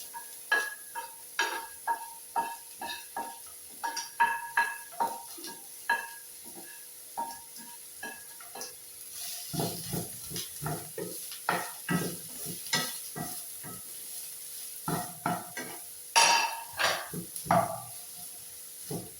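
Sliced onions sizzle steadily in a hot pan, with a run of scraping stirs from a spoon as they fry; the clatter grows busier and louder toward the end. No one speaks.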